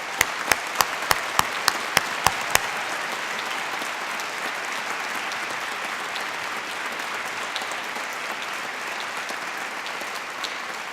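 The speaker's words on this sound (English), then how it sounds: "A big round of applause for all of our graduates." Graduates at a university humanities and social sciences graduation ceremony receive sustained applause from a large crowd, a dense steady clatter of clapping filling the hall at even loudness from start to finish.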